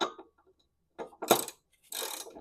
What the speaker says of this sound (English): you're good to start loosening this bolt in the middle